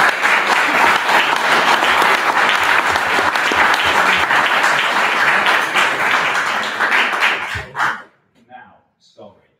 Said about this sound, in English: I think a round of applause to yourselves